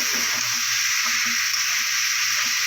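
Kolmi shak and other leafy greens frying in a pan with onion, chili and garlic, giving a steady, close sizzling hiss throughout with faint stirring knocks underneath.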